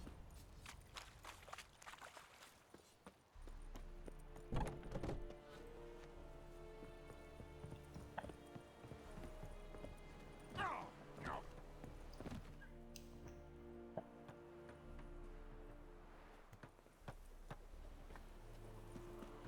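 A horse's hooves clip-clop faintly at a walking pace in The Witcher 3, the muted rhythmic thuds repeating over a low ambient game background.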